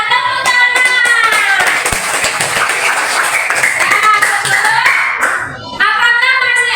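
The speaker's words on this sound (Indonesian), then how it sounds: "Ya, tepuk tangan." Students in an Indonesian classroom clap their hands together in a dense burst of clapping lasting several seconds, with children's voices mixed in and a brief lull near the end.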